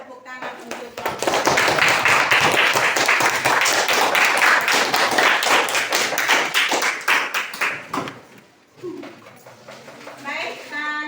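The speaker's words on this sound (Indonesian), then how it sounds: "Mari kita berikan tepuk tangan untuk kelompok." Classroom applause for a student group after its presentation, a burst of dense clapping lasting about seven seconds that thins and fades, with children's voices chattering over the end.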